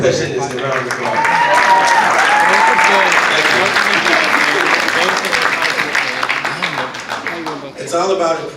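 At a band banquet, an audience gives sustained applause for two percussionists, dense steady clapping running several seconds before tapering off, with a few voices mixed in.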